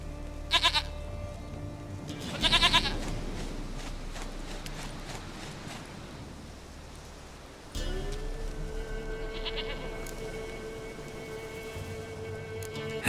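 A goat in The Witcher 3 bleats twice in quick succession, loud and close, over a steady rain-like ambient hiss, followed later by a droning game background tone.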